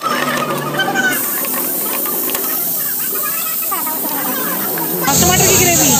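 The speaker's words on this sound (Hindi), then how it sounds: "ये पनीर के पीसेस बड़े बड़े साइज में, पनीर की भुनाई चल रही है।" Large pieces of paneer roast with spices in a pan, making a loud, continuous hissing sizzle close by that grows stronger near the end, with no talking.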